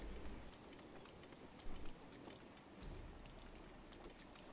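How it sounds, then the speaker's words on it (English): Rain falling in The Legend of Zelda: Breath of the Wild, a steady faint patter of drops hissing continuously with a few soft thumps, distant and quiet. "And it's fucking raining."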